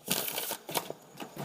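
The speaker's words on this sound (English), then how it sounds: "Oops, and my cards are flying all over the place." A deck of tarot cards is shuffled as quick, close papery riffles and flicks. The bursts come in uneven clusters and are fairly quiet, with no talking.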